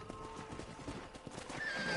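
In a video game, a horse's hooves clip-clop in steady rapid steps, with a high whinny rising near the end, all fairly quiet against a faint outdoor background.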